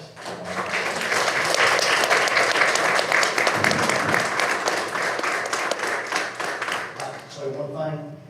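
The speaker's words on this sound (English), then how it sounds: "Please join me in a big round of applause." Warm applause at a Greer, South Carolina city council meeting, a loud, steady round of clapping from the room that swells and holds for several seconds before tapering off.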